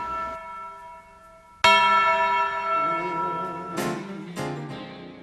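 A church bell at Mount Pleasant Baptist Church rings loud and close, with a strong struck tone at the start followed by long ringing decay and two more strikes later, alone without voices.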